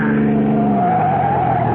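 A car skids with a loud, continuous tire squeal as it is forced off the road in a radio drama, alone and close for under two seconds.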